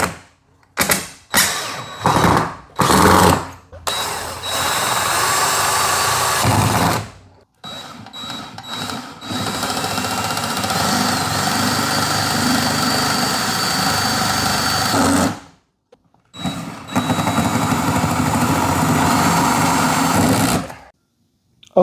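A power drill drives screws into a wall to wedge a power supply in place, with long loud whirring runs, some short bursts, and brief pauses between them.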